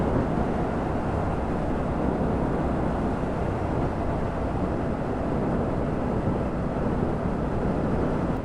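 A Triumph Scrambler 1200 XE motorcycle cruising a country lane at about 70 mph, engine turning near 3,600 rpm, gives a steady, loud drone blended with heavy wind rush, unbroken for the whole stretch with no talking.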